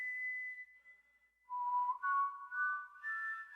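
A whistled rendition of a song, a clear solo melody of sustained pure tones. It steps through several held notes with short breaks between phrases, close and alone with no talk.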